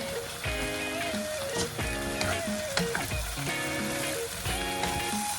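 Chopped scallions, spring onions and chili sizzle in a pan for a quick vegetarian dinner, giving a steady close frying hiss with bursts of crackle as they are stirred, over light background music.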